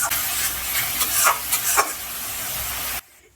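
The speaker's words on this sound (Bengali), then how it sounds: "আর পেস্ট করে রাখা পেঁয়াজ বাটা আর টমেটো বাটা এর মধ্যে আমি দিয়ে আবারও 2 থেকে 3 মিনিট একটু কষে নেব।" Onion and tomato paste sautéing for a soybean chunk curry, a brief close hiss of frying with soft stirring scrapes that stops suddenly after about three seconds.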